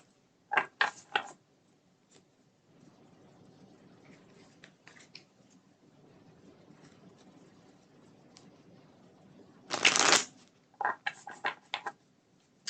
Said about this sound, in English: Let's get these cards shuffled.